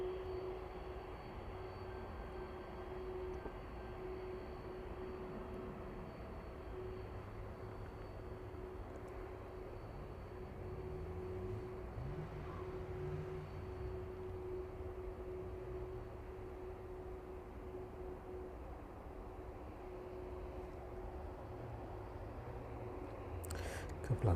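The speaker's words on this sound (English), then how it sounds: "Watch the 767 make its way for taxiway first" A Boeing 767 taxis at East Midlands Airport, a steady low jet engine drone with a constant whine, moderately distant and even throughout, with no talking.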